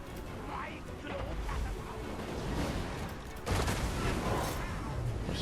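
Battle gunfire in Total War: Warhammer 2 from Skaven snipers, Rattling Gunners and Bombardiers, a dense continuous crackle of shots and explosions filling the whole span, with talk over it.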